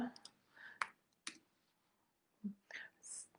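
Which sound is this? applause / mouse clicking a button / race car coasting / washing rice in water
mouse clicking a button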